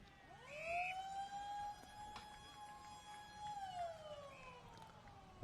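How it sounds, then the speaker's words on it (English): A long wailing siren sounds across an Australian football ground at quarter time in a Rockingham versus Pinjarra semi-final, rising, holding a steady loud tone for several seconds, then sliding down, with crowd noise beneath. "There's the siren here at quarter time."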